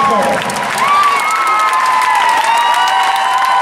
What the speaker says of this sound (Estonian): Give us a big hand.